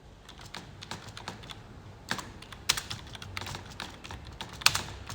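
Typing on a computer keyboard while entering data into Tally accounting software: a close, irregular run of crisp key clicks with a few louder strikes, with no voices.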